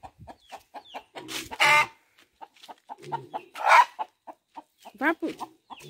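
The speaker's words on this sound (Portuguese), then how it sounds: "as galinhas começaram a cantar agora" Chickens cluck repeatedly in short bursts close by, with a few louder squawks, intermittent and without talk.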